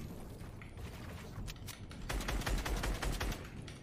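Rapid gunfire in a solo arena video game match, bursts of shots growing louder and denser toward the end, with no voices over it.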